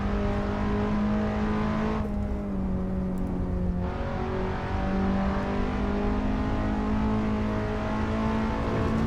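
A Toyota Sera TRD racing up the Pikes Peak hill climb in Assetto Corsa, its engine a loud, steady drone held at high revs with a brief dip as it shifts early on, no voices.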